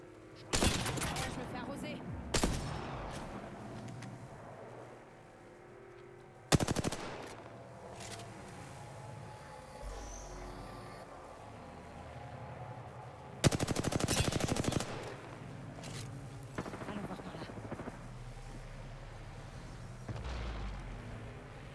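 Automatic weapon fire in the battle royale shooter Apex Legends, several loud rattling bursts and single shots spread across the scene, with a player talking over the gunfire.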